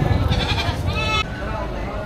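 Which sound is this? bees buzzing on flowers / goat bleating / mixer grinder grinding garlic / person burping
goat bleating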